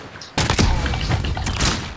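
Rapid pistol fire in a Modern Warfare pistols-only 1v1v1 match bursts in after a moment of quiet, a dense loud volley of overlapping shots with little letup.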